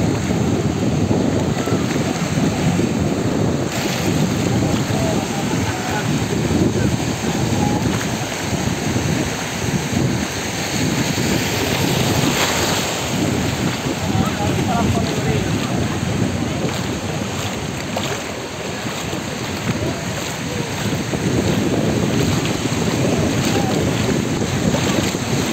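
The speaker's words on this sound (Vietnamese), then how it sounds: "thấy không, sóng nó đập vào như vậy nhưng mà nó không có rút ra quá nhanh" Sea waves break continuously on the shore near the old coastal town of Piombino, Italy, a loud, dense roar of surf with heavy wind buffeting the microphone throughout, and no voices.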